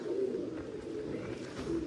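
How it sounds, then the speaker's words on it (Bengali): An Andhra pigeon, a male, gives soft low coos near the start and end, close by, against a quiet indoor background without talk. "আন্ধ্রা পায়রা অনেকেই দেখায়"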